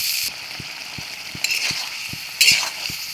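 Onion paste with chili and cumin powders fries in a pan for fish curry, a steady sizzle under a regular, evenly spaced tapping of a spoon stirring against the pan.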